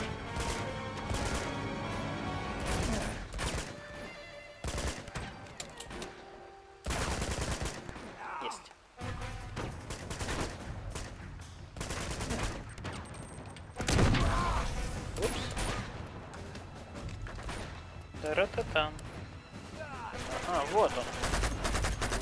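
Gunfire in the video game Uncharted: Among Thieves rattles almost nonstop, with dense bursts of automatic weapons and heavy crashing impacts, loud and close, and occasional voices underneath.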